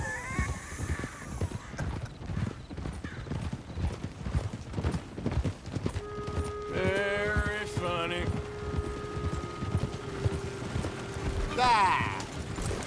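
Horse hooves clip-clop steadily in the Western open-world game Red Dead Redemption 2, a brisk rhythmic clatter under brief spoken voices, with wind and a whinny-like cry near the end.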